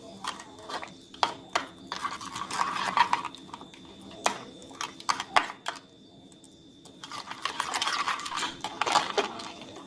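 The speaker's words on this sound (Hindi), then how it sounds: "इन्हें अच्छी तरह मिक्स करते हैं।" A spoon stirs and tosses spicy fruit and vegetable chaat ingredients in a bowl, giving irregular clinks and scraping clatter with soft rustling mixing sounds, close and moderately quiet.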